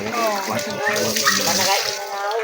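Water runs steadily from a tap, a continuous bright hiss that stays underneath people talking close by for the whole stretch.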